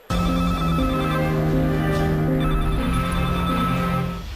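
A telephone rings with a steady, repeating electronic ringtone, loud and close, continuing for several seconds without any voices.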